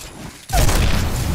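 A grenade goes off in Apex Legends: a quiet half-second, then a sudden loud boom whose heavy rumbling blast carries on to the end.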